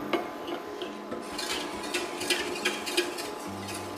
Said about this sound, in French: il ne faut jamais cesser de mélanger pour que la préparation n'accroche pas au fond de la casserole